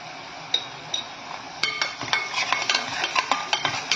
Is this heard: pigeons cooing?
no